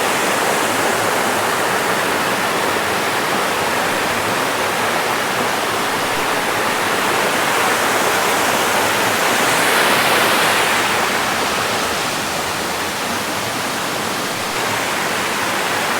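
A mini waterfall at Himidurawa pours into a stream with a steady, loud, broadband rush that stays constant throughout, with no voices.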